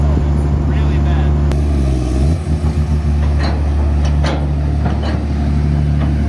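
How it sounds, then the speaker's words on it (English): A car's exhaust rumbles steadily with a turbo spooling up, a thin high whistle over the low engine drone, close by and fairly loud, with a brief dip and surge midway. "You can hear the turbo spool up"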